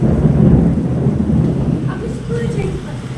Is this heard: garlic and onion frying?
no